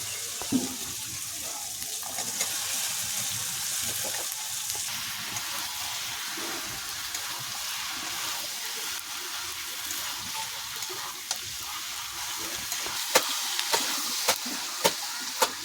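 Young jackfruit and potato pieces go into hot oil and spices for a jackfruit and prawn curry, giving a steady close sizzle with scattered stirring clicks and scrapes.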